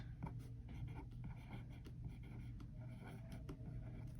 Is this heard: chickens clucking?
no